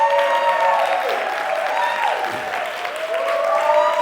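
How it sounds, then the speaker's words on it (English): An audience applauds a local club president, the Philadelphia Club's host, at a regional conference gathering, with steady clapping from a full room sustained evenly for several seconds under a faint tonal hum. "give you a round of applause"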